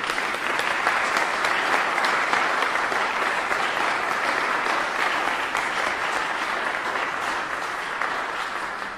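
Sustained applause greets the Hamilton County and Chattanooga mayors at a Chattanooga Marathon news conference, a dense, steady clapping from an indoor crowd that holds evenly for the full nine seconds.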